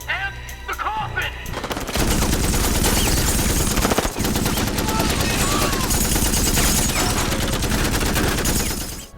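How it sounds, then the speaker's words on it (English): Sustained, dense machine gun fire from the Terminator 3 coffin scene, loud and continuous for several seconds, fired at police officers amid film sound effects, with a brief voice heard at the start. "he fires at all the police officers with his machine gun"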